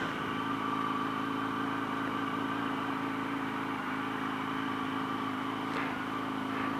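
A Honda NM4 motorcycle engine runs at a steady, continuous drone from close behind, holding an even tone throughout with no voices.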